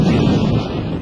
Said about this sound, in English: Fortunately, I can see the gust coming.